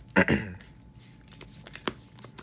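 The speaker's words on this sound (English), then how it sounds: "I'm going to give this a good shuffle before we begin." A deck of Cardfight Vanguard trading cards is shuffled by hand, giving two quick riffling bursts followed by softer card taps and rustles, close and quiet.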